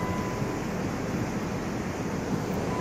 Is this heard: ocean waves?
yes